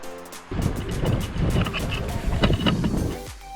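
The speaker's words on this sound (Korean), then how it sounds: "지금 바람 굉장히 많이 분다" Wind buffets a microphone with a deep, rumbling roar that swells and dips in gusts. No one speaks.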